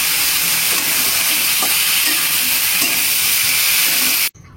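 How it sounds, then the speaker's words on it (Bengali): Water poured into sautéed vegetable curry sets off a loud, steady sizzling and steaming hiss, continuous and close, with faint stirring beneath, ending abruptly. "কষানোর পরে এখন জল দিয়ে দিলাম"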